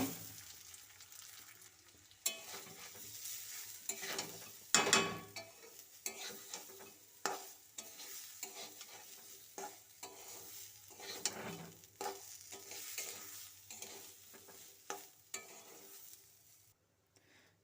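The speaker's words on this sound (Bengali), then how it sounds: "আঁচটা একদম লো করে দিয়ে সবজি ভাজা তেলের মধ্যে চাল ও ডাল ভেজে নেব" Rice and lentils fry over a very low flame in oil already used for frying winter vegetables for Bengali khichuri, with a quiet, soft sizzle and intermittent scraping stirs of a spoon in the pot.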